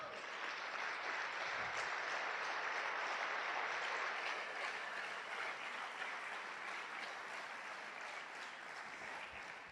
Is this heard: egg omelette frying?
no